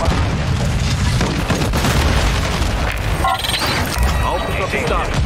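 A grenade blast in a Call of Duty match, a heavy boom buried in continuous loud battle noise with scattered gunfire and players talking throughout.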